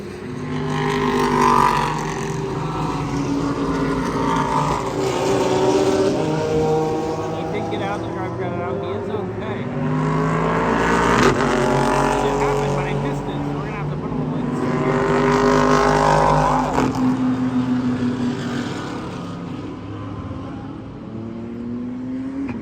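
Race cars roar past the grandstands near the finish of the Sahlen's Six Hours of The Glen endurance race, engines rising and falling in loud sweeping passes one after another, with a voice speaking over them.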